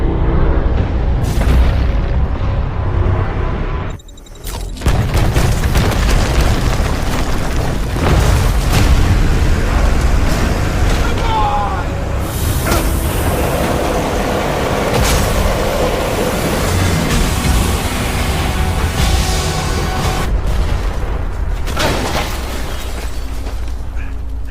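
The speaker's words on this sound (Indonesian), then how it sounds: "robot tersebut hancur dan meledak berkeping-keping" A robot blowing apart in a mine in a War Machine film scene, heard as a loud, dense stretch of booming blasts and crashing debris with a brief dropout near the start, then sustained rumbling wreckage throughout.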